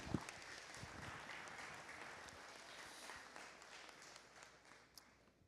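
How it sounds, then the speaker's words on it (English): Graduation ceremony audience applauding with steady, dense clapping spread across a large crowd, holding an even level throughout with a few sharper individual claps near the start and end. "Let's give them one more round of applause."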